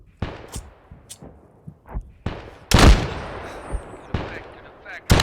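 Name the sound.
artillery and gunfire in the video game ARMA 3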